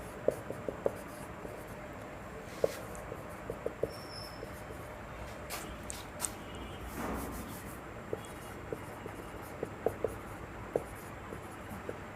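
A pen or marker writing during an English grammar lesson, with faint, scratchy strokes and light taps in short bursts and no talk.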